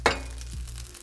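Egg fried rice with a touch of soy sauce sizzling in a hot pan, opening with a sharp clink of a utensil against the pan, then a soft, close, steady fry beneath a low hum.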